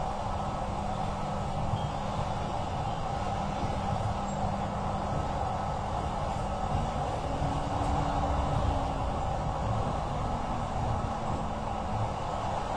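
Steady low rumble of a light rail train running, a continuous droning hum with faint rising motor whine, no voices.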